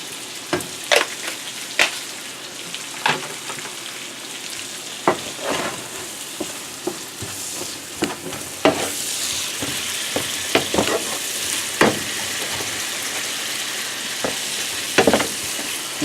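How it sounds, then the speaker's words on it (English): Garlic and onions sizzle steadily in a pan on a home kitchen stove, with intermittent scraping and clacking as a utensil stirs them, the frying continuing throughout with no talk. "We'll go and throw a little bit of garlic in there with the onions."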